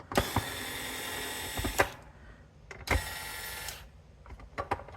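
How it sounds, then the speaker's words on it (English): Screws being backed out of an enclosure sub-assembly with a power driver, two sustained whirring bursts of about two seconds each with sharp clicks between and after them, close and fairly quiet. "I'm gonna quickly remove all the screws"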